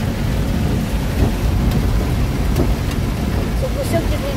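Heavy rain pours steadily with a deep rumbling roar underneath, dense and continuous, like a downpour with distant thunder.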